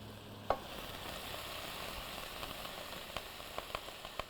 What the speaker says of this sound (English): add your potatoes and onions. We're going to saute these for a little while now